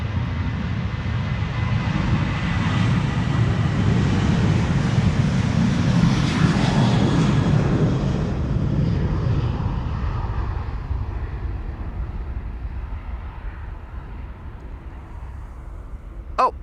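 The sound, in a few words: KLM airliner taking off from Amsterdam Schiphol to Helsinki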